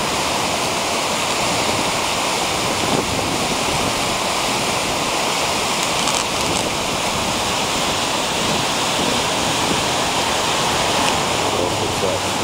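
Kezar Falls, a waterfall on a river in Maine running high after rain, roars as a loud, constant wash of rushing water with no pauses.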